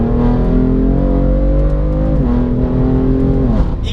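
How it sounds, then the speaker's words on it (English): A 520 BHP BMW M4 on 275-width rear tyres accelerating hard, the rear end squatting for traction; its engine drones loud and close with rising pitch, briefly dipping at a gear change before climbing again. "you can hear a little wiggle from the rear end, just squatting and trying to, you know, find traction through them 275 width rear tyres"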